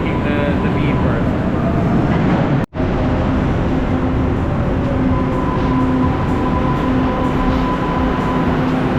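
An MBTA subway train rumbles loudly at the Copley station platform, a continuous heavy roar with tonal whine, broken by a sudden split-second gap early on; a voice speaks nearby.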